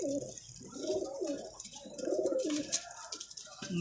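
A pigeon coos up close in a series of low, rolling calls with short pauses between them, with faint background noise and no talking.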